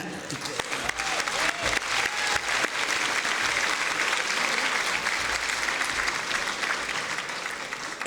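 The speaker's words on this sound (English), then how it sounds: "that does deserve an applause" Gala audience at an annual evening event breaks into sustained applause, a broad wash of many clapping hands that swells early and holds steady for around eight seconds.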